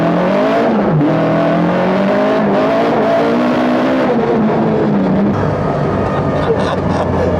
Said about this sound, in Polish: W momencie, gdy auto skakuje na obroty, trzęsie się ziemia, trzęsie się naprawdę wszystko.